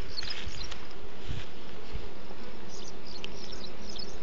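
A dense swarm of honeybees hums loudly and continuously around an open hive as a virgin queen is introduced, the close, steady buzz filling the space with individual bees whizzing past now and then.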